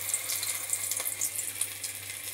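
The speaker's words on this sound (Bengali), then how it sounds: "ব্যাটারে চুবিয়ে এবার আমি পুঁই পাতাটাকে দেব তেলের ওপর" A battered Malabar spinach leaf fries in hot oil, giving a steady close-up sizzling hiss dotted with small crackles throughout.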